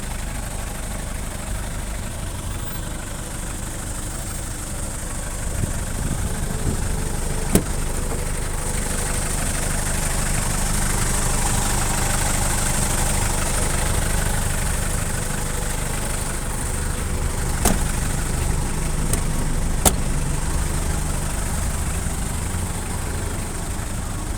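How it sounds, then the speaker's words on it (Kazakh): A Hyundai Porter van engine idles with a low, even rumble and faint vibration, holding at a constant level throughout with a few brief clicks. "Мотордун жүрүшү да башкача туугандар."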